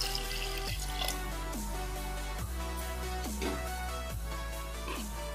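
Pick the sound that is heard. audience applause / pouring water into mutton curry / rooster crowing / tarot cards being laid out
pouring water into mutton curry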